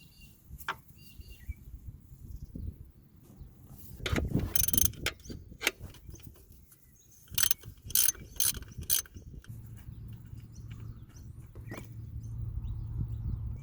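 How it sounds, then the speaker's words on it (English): Gearbox drain plug being undone under a Nissan R33, heard as close ratcheting clicks and metallic scrapes in bursts, with quiet handling noises between them. "that right there is the drain plug. So make sure you've got your drain pan ready, and now we can undo it."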